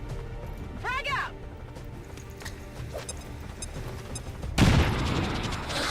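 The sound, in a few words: grenade explosion and gunfire in a video game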